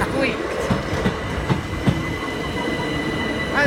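A Class 377 train rolls past the level crossing at Ford station in West Sussex, a loud, steady rumble with rhythmic wheel clacks and high squealing, faint voices underneath.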